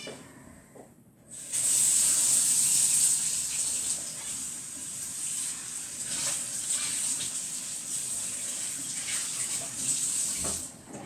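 Tap water runs steadily and loudly over baking moulds being rinsed, starting abruptly after a quiet second and continuing as a broad, even rush to the end.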